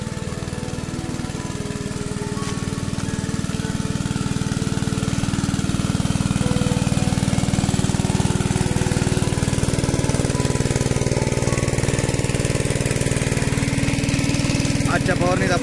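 An engine-driven spraying machine runs steadily on a mango farm during spraying, its loud, even rhythmic chugging continuing throughout while a person talks over it.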